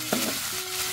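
Boiled monitor lizard meat is stirred in a hot pan for curry: one short, close scrape of the spoon over a light sizzle, lasting about a second with no talking.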